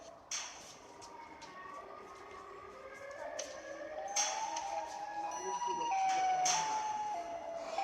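Siren Head, a creature from an animated horror story, gives a wailing siren call that slowly rises and falls, starting faint and growing louder and nearer, with sharp clanking hits scattered through it.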